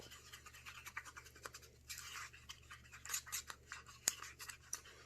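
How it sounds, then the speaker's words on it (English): Scraping and stirring of acrylic paint mixed with glue in a cup, giving a quiet, irregular run of scratchy strokes against the cup's sides and bottom, heard alone. "Make sure you scrape your sides and make sure you really get the bottom of that cup"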